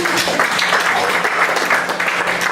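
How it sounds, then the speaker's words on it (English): An audience at a musical reading claps politely, a moderately loud, even patter of many hands continuing throughout without any speech. "The crowd politely applauses"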